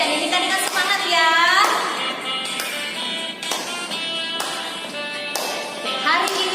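Hands clapping along in a lively Sunday school children's song at a church service, sharp claps in a steady beat over singing voices and music.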